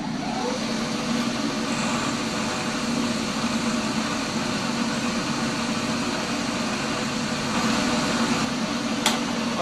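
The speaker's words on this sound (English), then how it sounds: "if you want to slow the machine down, you make sure you don't go in and move anything until it stops" A lathe spindle runs steadily during knurling, a constant close mechanical hum and whir with a faint high whine, unbroken throughout with no talk.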